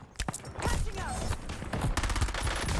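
Gunfire in the video game Warzone, a loud, dense fusillade of rapid shots and bursts with game sound effects mixed in, close and continuous.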